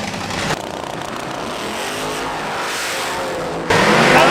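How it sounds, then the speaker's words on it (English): Drag race car launching at a grudge match, a steady loud engine roar and tire noise that jumps abruptly louder near the end, close and continuous without talk. "Spun the tire!"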